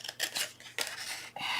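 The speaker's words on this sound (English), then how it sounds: "cut up your score lines" Scissors cut along the score lines of a paper box in three quick, crisp snips, each a close, bright crunching slice with short gaps between.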